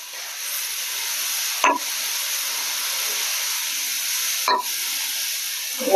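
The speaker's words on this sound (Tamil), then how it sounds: "இஞ்சி பூண்டு கொஞ்சம் பச்சை வாசனை போற அளவுக்கு நல்லா கிண்டிட்டு" Ginger garlic paste hissing steadily as it fries in a pot, with two brief scrapes of a spoon stirring it a few seconds apart.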